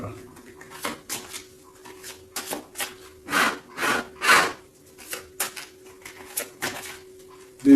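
Tarot cards being shuffled by hand, with repeated short rustling and riffling bursts in an uneven rhythm, close, over a faint steady hum.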